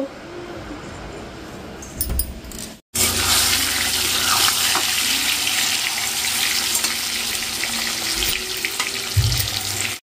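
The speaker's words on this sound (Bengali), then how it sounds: "সব মশলা দিয়ে হয়ে গেছে, পেঁয়াজ কুচি, আদা রসুন, টমেটো, জিরে গুঁড়ো, লঙ্কা গুঁড়ো সব দিয়ে এবার এটাকে একটু কষিয়ে" Chopped onion, ginger, garlic, tomato, cumin and chili powder frying in a pan, a loud continuous hiss and crackle that bursts in suddenly after a brief quieter stretch, with faint clatter over it.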